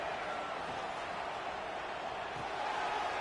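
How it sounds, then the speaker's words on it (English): Steady roar of an Alabama Crimson Tide football crowd at the stadium on third down against Miami, a dense continuous wash of distant voices filling the whole stretch with no clear individual shouts. "The Tide crowd rolling noise down onto Saban Field on third down."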